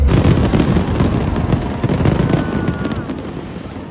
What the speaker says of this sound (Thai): ก็จะได้ดูโชว์พลุของเราอย่างสวยงามเลย